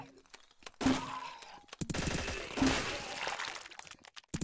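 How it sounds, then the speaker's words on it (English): A shotgun fires in a video game, giving two loud, sharp blasts about two seconds apart, each followed by a crackling burst of noise, with a faint voice underneath. "Shotgun to the head."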